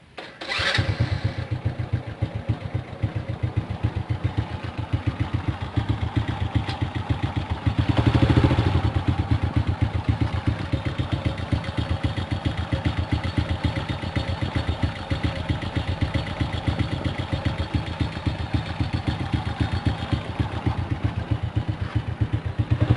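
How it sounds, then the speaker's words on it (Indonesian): A motorcycle engine, run with cooking oil mixed into it, cranks and catches, then settles into a steady, rapid idle with a clattering pulse, briefly revving once before idling on. "kita akan coba hidupkan sendiri karena terus terang saya belum naiki motor ini selama 2 hari ini"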